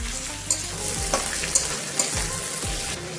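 Onion and garlic fry in a pan for a beef and potato curry, a steady broadband sizzle with a few sharp stirring clinks at regular intervals, close and continuous with no talking.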